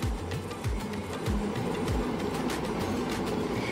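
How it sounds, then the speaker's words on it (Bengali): The Darjeeling toy train clatters along with rhythmic clicking over the rails and a low rumbling hum, moderately faint and continuous, with no talking. "এই দেখো পুলের ভেতর দিয়ে টয় ট্রেনটা যাচ্ছে"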